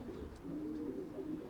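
Racing pigeons in a loft giving soft, low, continuous cooing, steady and fairly quiet, with no talking.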